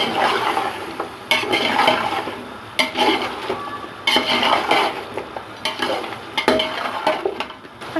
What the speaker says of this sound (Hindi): इसके अंदर हमने ये जो गोश्त को हमने यखनी निकाला था इस मसाले में डालकर खूब अच्छी तरह से भून लेंगे।